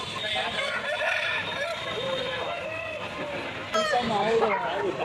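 Roosters of Tamil Nadu breed crow at a busy poultry market in Pavagoda, a rising call standing out near the end over steady crowd chatter and someone talking nearby.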